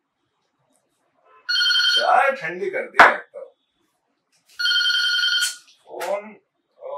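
An office telephone rings in two electronic bursts with a pause between them, loud and close, while someone speaks in Hindi between and after the rings.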